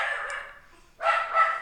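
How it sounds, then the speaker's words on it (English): A dog barks in the background of an indoor room, two short loud barks spaced close together near the end, after an earlier fainter yelp. "My dog's in the background."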